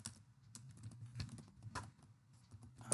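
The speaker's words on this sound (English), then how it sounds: "I will type my question" A question being typed on a computer keyboard: close, crisp keystrokes in quick irregular bursts with short pauses, heard alone and no voices.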